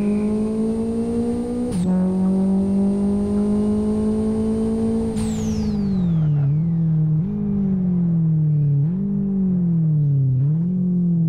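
A Lancia Integrale engine in the Live for Speed racing game holds a loud, steady drone with a tone that climbs, then revs rise and drop in repeated swells as it accelerates through gear changes, with no talk over it.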